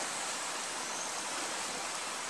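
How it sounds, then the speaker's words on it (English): The Goldsborough River in Tobago flows in a steady, even rush of water, continuous and close with no other sounds. "Wonderful, beautiful river"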